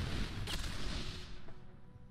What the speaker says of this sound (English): Oh, beautiful explosions.